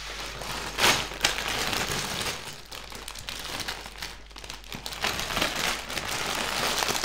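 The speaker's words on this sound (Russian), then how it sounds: "поехали открывать третий пакетик" Plastic crinkles and rustles up close as a LEGO parts bag is handled and torn open, with irregular crackling bursts throughout.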